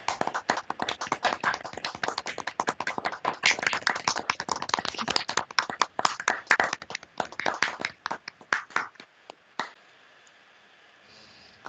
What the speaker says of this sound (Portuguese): Fazer uma salva de palmas